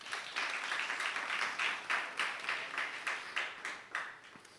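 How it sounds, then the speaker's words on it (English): An audience at a women's innovation programme event claps together, quiet and somewhat distant, the applause swelling into rhythmic synchronized bursts that gradually fade. "Round of applause there."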